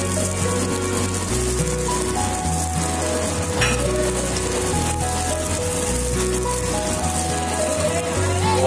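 Choipan, Pontianak-style fried dumplings, sizzling in hot oil at a Jakarta eatery: a loud, continuous crackle and hiss of frying without pause, with background hum and clatter.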